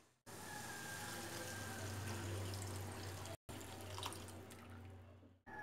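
Half a cup of water pours into a mixer jar in a steady gurgling stream, close and fairly quiet, broken by one short pause and with no talk over it.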